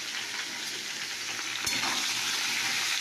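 Salted food frying in a pan while being stirred, a dense continuous hiss throughout with one brief knock of the spoon midway; no voices.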